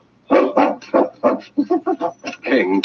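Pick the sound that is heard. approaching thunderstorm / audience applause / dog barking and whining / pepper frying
dog barking and whining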